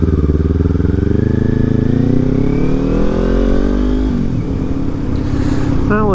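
A Kawasaki Ninja 400 motorcycle rides along steadily, its engine droning loud and close as revs climb through a long pull, then briefly ease and rise again, with wind rush throughout.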